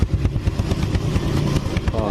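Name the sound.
Yamaha Vega R motorcycle engine revving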